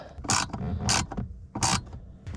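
Ratchet with a 7mm socket tightening a footwell light holder in a 1999-2005 Pontiac Grand Am: three close, loud bursts of clicking ratchet action with brief pauses between them.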